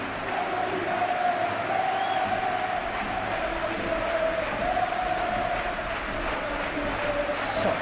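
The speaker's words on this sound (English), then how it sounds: "We have a hugely expectant crowd here." Stadium crowd in a football video game (Real Madrid, Master League), cheering and singing in a steady, dense roar that holds at an even loudness throughout, with no clear talk above it.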